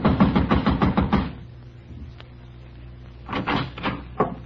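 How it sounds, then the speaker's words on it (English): Knocking on an apartment door in a radio drama: a quick run of about seven firm, evenly spaced knocks, a pause, then three more slower knocks, close and loud. "I walked over and started knocking again."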